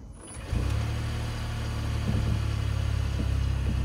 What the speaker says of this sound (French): je vais démarrer la voiture, et on va pas entendre de vrai bruit de démarreur en fait